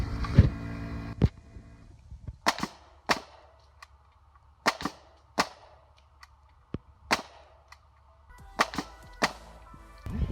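A framing nail gun fires 2.5 inch framing nails at a target about 10 yards away, giving about a dozen sharp, loud cracks at irregular intervals with quiet gaps between them.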